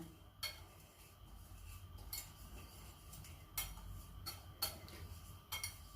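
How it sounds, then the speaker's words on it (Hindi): Chicken pieces being mixed with salt and paprika in a bowl, heard as quiet scattered clinks and taps of a utensil against the bowl at irregular intervals, with no talking. "अब मैं इसको मिक्स कर देता हूँ इस तरीके से, देखें।"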